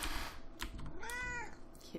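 A cat in the video game Omikron: The Nomad Soul gives a single clear, drawn-out meow, close and distinct over a quiet background.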